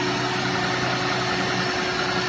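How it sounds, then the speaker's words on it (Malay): Car engine idling after a tappet adjustment, a steady close mechanical hum with an even, smooth running tone and no ticking evident, no voices. "Okey, engine still running."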